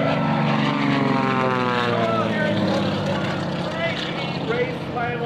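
A 500 horsepower aerobatic airplane engine in flight at an air show, a loud, sustained propeller roar with shifting pitch as it passes, while an announcer talks over it.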